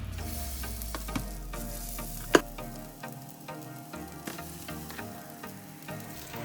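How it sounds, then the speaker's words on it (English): Mung bean pancake batter sizzles and crackles in hot oil in a frying pan, with a few sharp clicks from the pan; steady frying throughout, no talking. "place an appropriate amount of batter on the frying pan"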